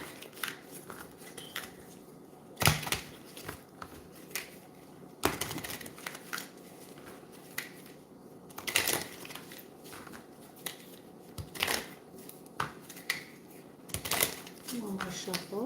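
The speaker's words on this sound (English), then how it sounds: "One more shuffle." Tarot cards being shuffled during a live reading, giving repeated brisk riffling and slapping bursts spread across the stretch, close and moderately loud, with quiet gaps between them.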